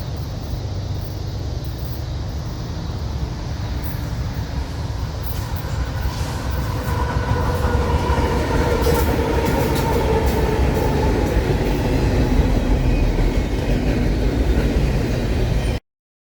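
A long freight train led by UP 7312 rumbles steadily past East Elko, a continuous heavy roll of wheels and cars growing louder, with faint metallic squeals near the end.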